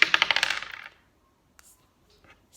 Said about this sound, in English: Let's roll the dice again.